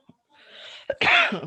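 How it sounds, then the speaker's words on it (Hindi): A single sharp, explosive cough bursts out after a short breathy inhale, close and loud, with no talking around it. "खांसी आज फिर आ रही है"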